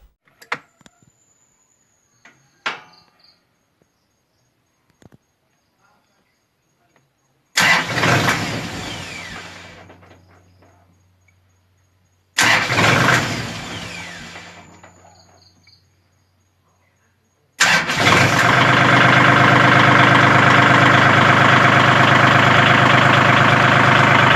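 A Kubota L4018 or L5018 tractor engine cranks and catches twice, each time running briefly before dying away, then a third start settles into a loud, steady idle, with faint outdoor clicks and quiet before the first start.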